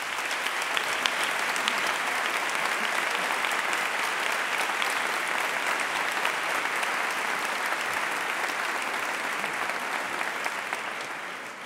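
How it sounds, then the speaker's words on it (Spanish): Loud, dense audience applause rolls steadily through a university dance gala at the Universidad de Alicante, many hands clapping without pause before tapering slightly at the end. "Un aplauso, por favor."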